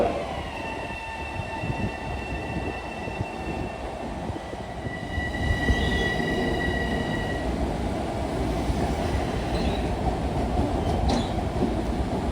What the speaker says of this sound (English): This is the 631 West Hempstead train arriving on track 7